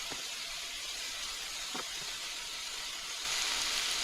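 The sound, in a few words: chicken frying in a frying pan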